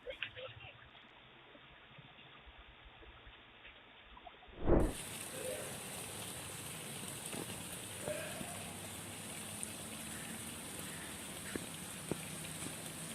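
Steady, dense rain hisses after a sharp thump, a constant wash of drops with occasional taps, and speech underneath.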